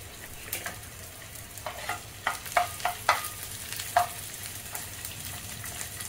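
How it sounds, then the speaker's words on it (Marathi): Edible gum (dink) frying in ghee, a soft continuous sizzle with several distinct stirring scrapes and clinks of a spoon against the pan, fairly close and moderately quiet. "आता उरलेला डिंक पण आपण तळून घेतोय।"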